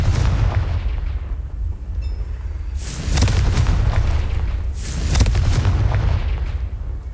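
Confringo blasting spell explosions in Hogwarts Legacy, several deep booming blasts with a heavy low rumble, each swelling and fading over a second or two, loud and close with no talk.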